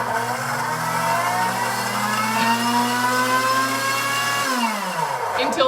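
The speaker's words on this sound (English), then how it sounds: "It's gonna alternate between blending and heating." A countertop blender on a heated puree cycle whirs loudly and steadily for several seconds, its motor pitch wavering, then winds down sharply near the end.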